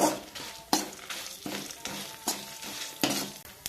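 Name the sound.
dried red chillies frying in pan for Chettinad chicken curry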